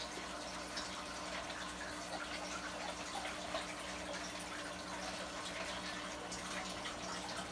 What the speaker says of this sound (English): clean them off under the faucet to get all that debris off